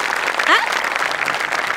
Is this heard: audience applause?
yes